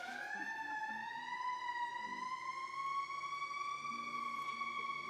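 A loud, steady wailing siren sounds at a 2021 college commencement ceremony, one long sustained tone slowly rising in pitch, rich with overtones and heard alone.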